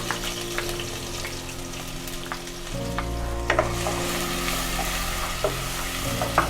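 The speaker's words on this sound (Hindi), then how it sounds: "थोड़ा सा सौते करेंगे इसको जब तक ये थोड़ा सौते हो रहा है।" Garlic, ginger and green chilies sizzle steadily as they sauté in oil, with a few clicks and scrapes of stirring, all beneath continuous background music.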